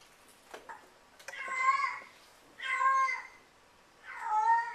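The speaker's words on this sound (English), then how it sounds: "That was an example of a cat in heat." A cat in heat gives three long, drawn-out, wailing meows, each rising and lingering, close and fairly loud, separated by short pauses after a few faint clicks and thumps at the start.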